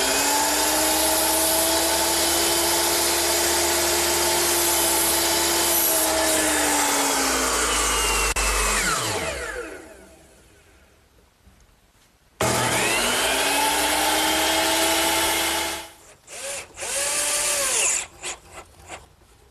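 A power saw tilted to a 13-degree bevel cuts 2x4 rafters: a loud sustained motor whine through the wood that winds down, a brief silence, then another loud run and a spin-down with short bursts.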